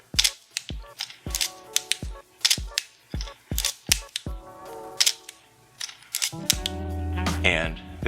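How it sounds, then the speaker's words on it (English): A film camera loaded with Kodachrome clicks through repeated shutter releases and ratcheting film-advance strokes, a quick rhythmic series of sharp close mechanical snaps, ending in a longer grinding wind. "we're going to press the shutter release and wind the film"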